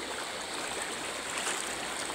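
Strong floodwater rushes in a river in a steady, dense roar, close and continuous with no pauses or voices.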